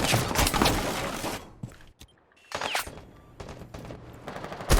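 Pistol gunfire in Rainbow Six Siege during a competitive bomb-defuse match, with bursts of sharp shots and crackling impacts at the start, then a near-silent gap followed by more scattered shots.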